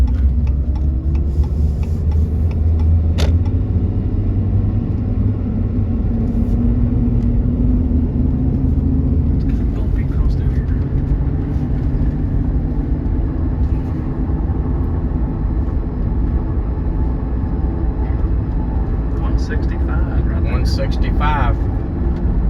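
A Dodge Ram with a Cummins 6.7L diesel engine and 68RFE transmission runs steadily, a continuous close low rumble with light ticking over it throughout.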